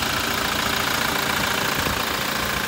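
A 2016 Toyota Prado GXL's 2.8 litre turbo diesel engine idles steadily, a dense, continuous clattering rumble heard up close with no one talking.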